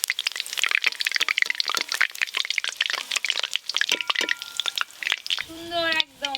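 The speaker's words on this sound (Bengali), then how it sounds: "এদিকে আমার পেঁয়াজ ভাজা হয়ে গেছে" Onions fry in a pan for a home-cooked mutton biryani, giving a loud, dense crackling sizzle with stirring clatter throughout, and a brief tonal squeak near the end.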